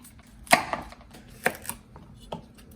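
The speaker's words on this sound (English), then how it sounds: "Nice long strips of carrots." A knife chops carrots into long strips on a cutting board, three sharp distinct thunks spaced about a second apart, close and clear with no talking.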